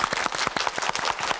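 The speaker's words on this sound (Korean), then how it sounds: "박수를 보내주세요." A studio audience on a KBS television talk show claps in a quick, fairly close rhythm of distinct hand claps, moderately loud, for just over a second with no talk over it.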